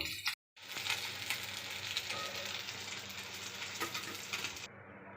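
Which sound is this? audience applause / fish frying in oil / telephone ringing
fish frying in oil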